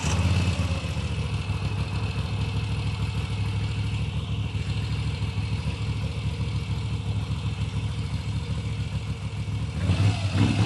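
A motorcycle engine cranks and settles into a steady, close idle with a low, even rumble that holds for about ten seconds, rising briefly toward the end.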